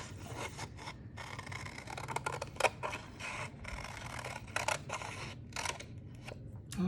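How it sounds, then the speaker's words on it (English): Scissors cut through two layers of folded paper while a symmetrical mitten shape is made, giving a close, steady run of crisp snipping and rasping strokes with no voice over them. "I am cutting through 2 pieces of paper right now"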